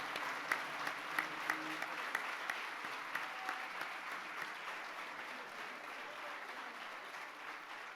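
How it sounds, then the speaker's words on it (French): Assembled deputies at a Djibouti independence anniversary ceremony rise and applaud. The sound is a faint, distant wash of many hands clapping, with a few sharper individual claps standing out early on. "je vous demande solennellement de vous lever et de l'applaudir"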